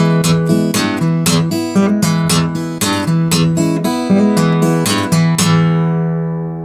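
Delta blues guitar riff with thumb and index-finger string snaps: crisp percussive snaps punctuate a looping bass line and ringing chords in a steady rhythm, ending on a sustained chord that fades.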